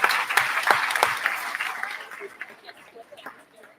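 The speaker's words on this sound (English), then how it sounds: "one more big round of applause, please, for these market steer exhibitors" Applause from a county fair crowd for market steer exhibitors at the Summit County, Utah livestock judging, loud clapping at first that thins and fades over a few seconds.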